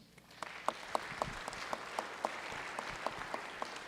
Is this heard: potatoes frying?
no